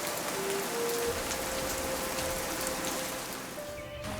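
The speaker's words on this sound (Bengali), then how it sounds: "হাওড়ের পানিতে বৃষ্টির শব্দ" Steady rain falling on open haor wetland water at Tanguar Haor, Sunamganj, a dense continuous patter of drops close by with a faint tonal hum running underneath.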